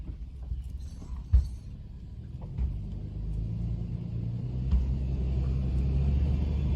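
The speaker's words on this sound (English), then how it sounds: "Oh, tires just broke loose. That was a loud pop." Inside a four-wheel-drive truck pulling a cabin, a steady low engine rumble builds slowly, broken by a few sharp knocks as the tires break loose. The sound is close and muffled, with no voices.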